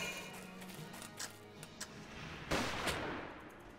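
Scattered gunfire from the Valkyria Chronicles video game battlefield: a few faint, isolated shots early, then a louder burst of rapid fire near the end over a low, steady background.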